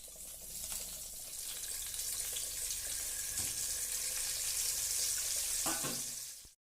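Eggs seasoned with salt and turmeric fry in a pan with a steady, dense sizzle that holds evenly for several seconds before cutting off abruptly.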